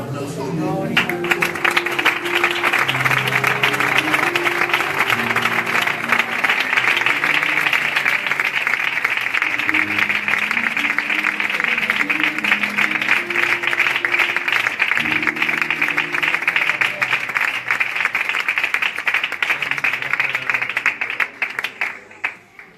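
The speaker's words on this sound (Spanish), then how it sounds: "Pedirle al Señor el mejor aplauso" Sustained church congregation applause fills the clip at steady loudness, dense and continuous, with music or voices faintly underneath, fading out at the very end.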